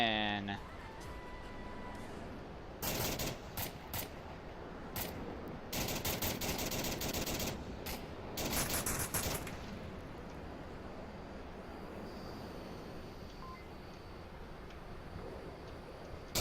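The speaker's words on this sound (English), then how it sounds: "Shots fired." Bursts of automatic gunfire in the VR shooter Onward during a competitive match amid a sandstorm, loud clustered volleys separated by quieter stretches of ambient wind and game noise, with a commentator talking over parts of it.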